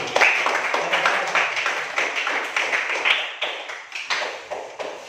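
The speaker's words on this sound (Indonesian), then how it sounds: "Mari kita berikan tepuk tangan kepada kelompok 1." Classroom of students clapping for a group, distinct rhythmic claps close by in a fairly small room, a loose but steady patter.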